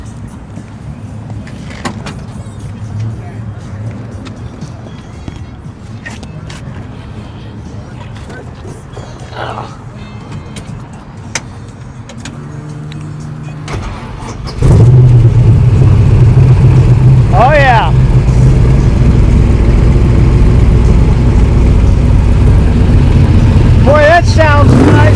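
A 1950 Chevy gasser's engine cranks and fires up abruptly partway through, then runs loud with blips of revving; before it starts, people talk near the car.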